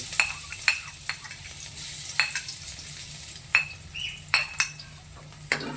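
Garlic sizzles in a hot pan for chicken gizzard and liver adobo in coconut milk, a steady frying hiss broken by sharp clinks of a utensil stirring against the pan, close and alone without talk.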